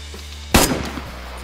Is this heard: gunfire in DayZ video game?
yes